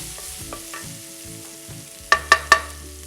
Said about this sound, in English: Let the spices roast.